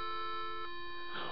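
A single channel of an audio signal generator set near 349 Hz gives a steady, sustained electronic tone with a faint shift partway through, heard alone without talk.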